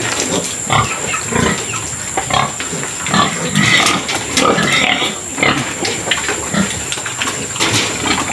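Two pregnant sows, about two months along, grunt repeatedly in a pen, with rough irregular grunts over steady farm background noise throughout.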